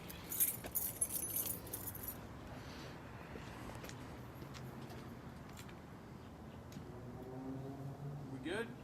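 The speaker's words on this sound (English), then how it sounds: "Might need the keys" Car keys jangle near the start beside a 2002 Mustang GT, a bright metallic rattle for about two seconds, then quieter shuffling and a voice under low background noise.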